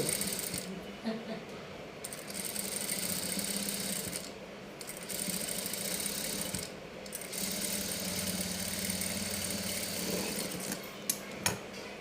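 A sewing machine stitches a long frock, a steady mechanical whirr of the needle running almost without a break, with a few short pauses and small clicks near the end.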